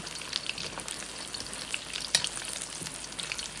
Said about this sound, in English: You're gonna fry these on medium-low heat.